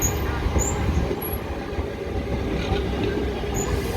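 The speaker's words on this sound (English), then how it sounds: "It's coming out of siding." A passenger train pulls out of the siding at West Worthing station, giving a steady rumbling roll of wheels on track with faint high squeals, heard from the platform at moderate distance.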